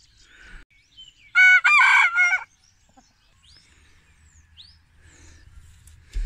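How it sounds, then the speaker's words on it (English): Chickens in a coop during mucking out: scattered soft clucks, then a loud rooster crow close by, followed by quieter clucking and bird calls over faint background noise. "Mucking out the chicken coop is my least favourite job, and it seems to be causing a certain amount of consternation amongst the flock."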